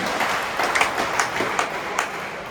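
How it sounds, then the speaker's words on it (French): Crowd applause at a bare-hand pelota match in a trinquet court, a steady wash of clapping with a few sharper claps standing out, moderately loud and continuous throughout. "Applaudis chaleureusement"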